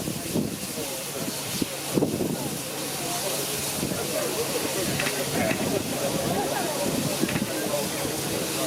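Steam locomotive 45996 Bahamas hissing steadily at Gloucester station, a continuous broad hiss with low rumble and wind buffeting the microphone, while a person speaks nearby.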